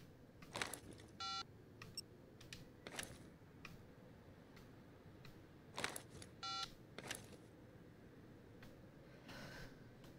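A mobile phone in the video game Sleeping Dogs gives short electronic ringing bursts, repeated twice several seconds apart, amid scattered clicks and soft background noise.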